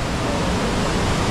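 Water pours continuously at Chorlagundi Falls near Kanakumbi, Belagavi, a dense, steady rushing hiss filling the short stretch with no other sounds.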